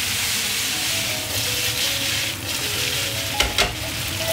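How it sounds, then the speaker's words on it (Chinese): Small pieces of tofu pan-fry in oil until golden, a continuous close sizzle with a few sharp spatula scrapes and taps near the end. "把豆腐煎黄"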